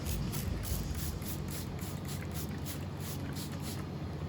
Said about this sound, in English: So what we do then is we spray it again.